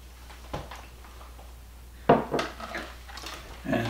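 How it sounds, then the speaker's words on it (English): Utensil clinking and scraping in a bowl as apple dessert is stirred with sugar, a few sharp knocks then steadier mixing sounds, close and moderately loud, with a little talk. "I'm going to mix it with half a cup of sugar"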